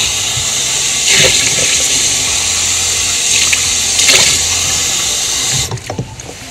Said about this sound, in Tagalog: tatapon ko na yung hot chocolate ko